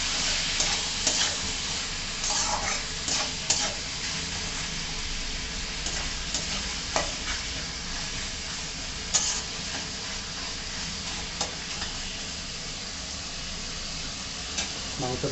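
Chicken pieces sizzle in a pan of oil while a utensil stirs and scrapes them, sounding close and continuous with frequent clinking spatula knocks and no speech.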